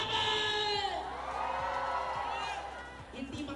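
A crowd at a Robinson's Galleria mall show cheers, whoops and shouts, a loud, dense roar that holds steady and then tails off.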